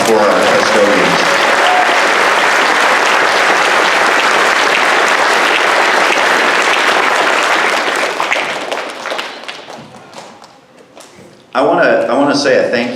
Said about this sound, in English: How about a huge round of applause for our custodians?